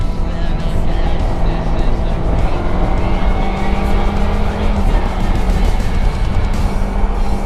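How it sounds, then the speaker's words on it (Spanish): A Kawasaki Versys X 300 motorcycle accelerates with a steady, loud engine drone and heavy wind rush close by. "Vamos a hacer una prueba de aceleración."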